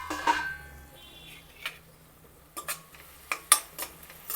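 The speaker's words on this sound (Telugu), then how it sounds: "ఉల్లిపాయ కలుపుదాము ఒకసారి" A utensil stirs chopped onions through a beetroot fry in a pan, giving a few sharp clinks and scrapes spaced across a few seconds, close by and fairly quiet, with no talking.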